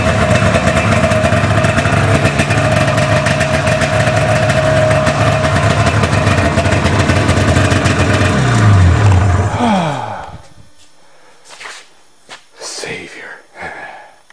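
A snowmobile engine runs loud and steady at its first start of the 2009 season on a farm, then cuts off, leaving quieter voices talking nearby.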